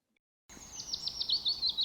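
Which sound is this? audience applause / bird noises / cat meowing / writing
bird noises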